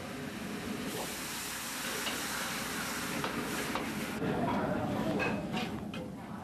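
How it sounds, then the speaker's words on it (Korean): Meat, shrimp, chili and bell peppers stir-fried in plenty of oil over very high heat for a Chinese dish give a loud, continuous sizzle and hiss that swells near the end, with no voices. "충분한 기름으로 볶고 난 후 그 속에 고추와 피망 등의 야채를 넣는다"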